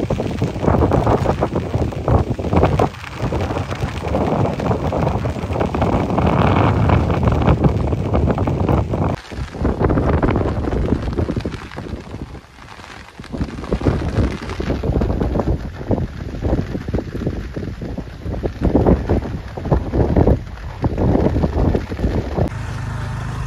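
Strong stormy wind batters the microphone on the seashore at Satpati village, where fishing boats are coming in, producing a loud, continuous roaring rumble with gusty surges and brief lulls.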